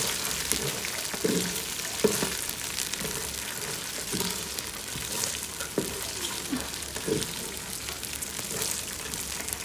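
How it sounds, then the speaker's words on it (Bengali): Spices and nuts fry in oil in a pan, giving a steady, close sizzle that runs through the whole stretch with faint stirring scrapes and no voices. "আর মিক্স করে তারপর হচ্ছে কিছু সময় ভেজে নিব।"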